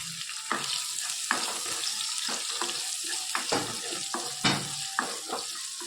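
Garlic, onion, ginger and green chillies fry in a pan, a soft steady sizzle broken by repeated stirring scrapes and clatters in an uneven rhythm, close and fairly quiet with no voices.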